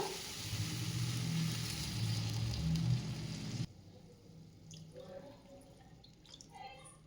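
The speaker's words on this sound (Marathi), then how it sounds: "आता यामध्ये घालायचं आहे आपल्याला दोन कप पाणी" Two cups of water poured into a pot for Maggi noodles, a loud rushing gush for a few seconds that stops suddenly, followed by faint drips and light clatter.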